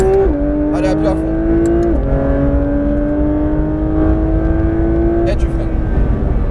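A Porsche 992 GT3 RS accelerates hard on the Fontenay-le-Comte race circuit, its engine note climbing steadily with two quick upshifts. The engine stays loud and continuous throughout, and an instructor's voice can be heard over it.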